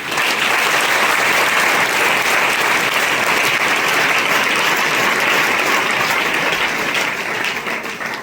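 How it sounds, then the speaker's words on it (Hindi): Loud, steady applause from a classroom audience clapping for a student at a motivational class, a dense wash of many hands that holds for about eight seconds before easing slightly at the end. "भैया के लिए ताली दीजिए।"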